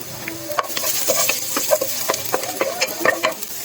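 Ginger sizzles in hot cooking oil in a casserole, with a continuous crackling hiss broken by repeated sharp pops and spatters, close and fairly loud, with no talking.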